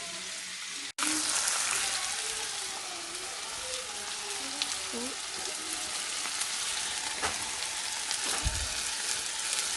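Seasoning sizzles in a hot sauté for red snapper fish, a steady close frying hiss that runs throughout with a brief pop near the end and no talking.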